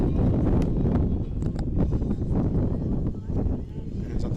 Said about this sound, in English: As you can tell, a very windy day here in Alabama.